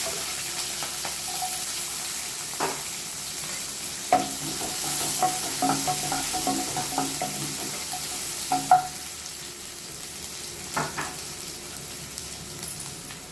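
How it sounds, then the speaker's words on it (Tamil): Onions frying in oil with mustard seeds, a soft continuous sizzle with intermittent stirring scrapes and occasional sharper clinks of the spoon, close and moderate in volume. "இந்த மாதிரி நல்லா வெங்காயம் வதங்கணுன்னு"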